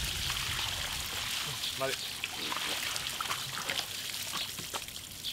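Water pours and trickles while beef is rinsed, a steady splashing stream under a person speaking, with small knocks and sloshes mixed in.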